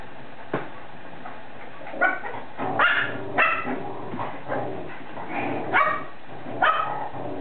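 A small dog whimpers and yips at the top of a big step, giving several short, high whines and little barks close by, with no one speaking over them.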